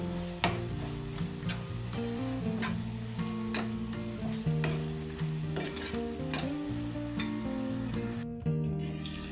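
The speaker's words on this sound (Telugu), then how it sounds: "టమాటా వేసుకున్నాం కదా ఇదే టమాటాలో అల్లం వెల్లుల్లి పేస్ట్ సగం టీ స్పూన్ మిర్చి కలుపుకోవాలి" Tomato with ginger-garlic paste and chili powder sizzles in a pan for an egg-tomato dish, with steady frying and repeated spoon strokes of stirring throughout, close and fairly loud; a brief quiet gap near the end.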